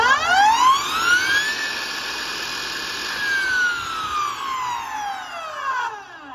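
A Husqvarna K1 Pace battery cut-off saw runs with its blade spinning, rising to a high steady whine, holding for several seconds and then winding down as it brakes; loud, close and heard alone.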